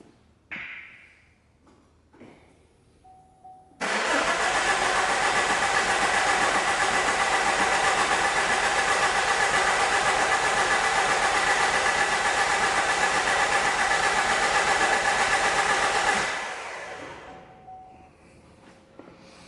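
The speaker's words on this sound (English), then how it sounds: "I've disabled the injectors on the vehicle so that when I crank it, it's not going to start" A 2010 Vauxhall Insignia 2.0 CDTI diesel, its injectors disabled, cranks over without firing, giving about twelve seconds of a steady loud churning whir that stops abruptly and then tails off, with quieter sounds before and after.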